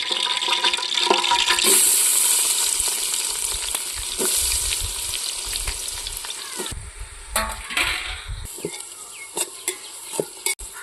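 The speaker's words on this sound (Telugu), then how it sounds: "బ్రౌనిష్ బాగా వచ్చేదాకా బాగా వేపుకోవాలి" Onion pieces frying until brownish, a loud bubbling sizzle that fades and turns patchy, broken by intermittent clinks and stirring scrapes near the end.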